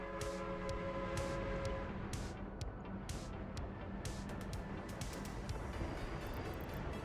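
Train running in a 1900-start railway building game, hauling crops from a customs house: a steady, loud rolling rumble with sustained tonal hums and repeated bright clicks over seven seconds, with no talk.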